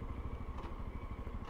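A motorcycle engine idles steadily nearby, a low, even, rapid thumping with light mechanical clatter and no talk over it.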